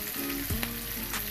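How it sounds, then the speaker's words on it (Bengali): Sea fish frying in hot oil in a wok, a steady dense sizzle filling the whole stretch with a few brief clinks of a utensil, close and loud with no talk. "একটি কড়াইয়ে তেল গরম করে মাছগুলো আমি হালকা বাদামি করে ভেজে নিব।"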